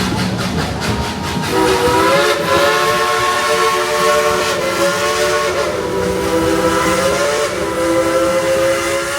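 Steam locomotive Engine 192 at Dollywood sounds its whistle in long, loud, wavering blasts over the hiss and rumble of the engine, close by and with no talking.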